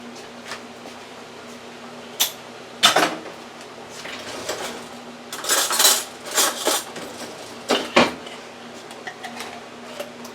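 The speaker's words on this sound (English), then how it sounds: "So I'm going to just put the beans all together in this bowl." Beans tipped into a bowl for chili: a series of clinks and rattling scrapes against the dish, some clustered in quick runs, over a steady low hum.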